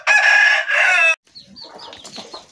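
Desi chickens and small chicks cluck and crow nearby, a loud sustained call followed by softer scattered clucks and peeps.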